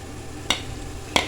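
Cabbage and onion pakoras frying in hot oil give a steady low sizzle, broken by two brief sharp clicks, as of a utensil touching the pan, with no talking.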